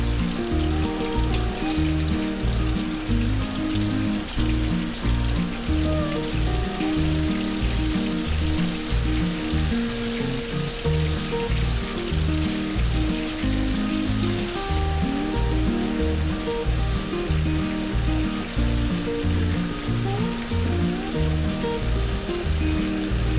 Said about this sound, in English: simply deep fry the prawns until it is nice, crispy and golden brown